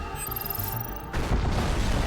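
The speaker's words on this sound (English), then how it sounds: "Oh, I just heard the explosion." A game explosion in a sci-fi run where a cube holding aggressive nanobot tech is opened: a sudden low boom after about a second, swelling into sustained rumbling noise over steady electronic game tones.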